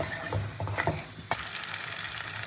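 Young jackfruit is stirred and fried with spices for a jackfruit and prawn dish, with brief scraping strokes, soft sizzling and one sharp metallic clink of the spoon on the pan.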